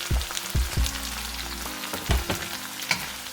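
Mushrooms fry in a pan with a steady close sizzle, broken by several low thumps and scrapes from stirring, with no talking.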